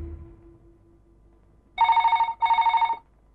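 A telephone rings in two bursts of bright electronic trilling, loud and close, after a quiet room tone; no voices are heard.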